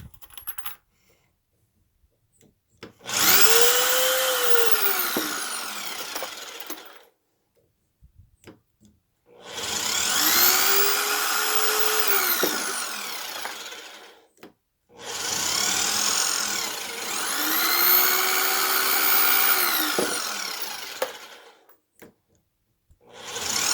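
Frankford Arsenal Universal Precision power case trimmer cutting rifle shell cases, three loud whirring bursts of several seconds each with a rising and falling motor pitch, separated by short quiet pauses with faint clicks as cases are swapped.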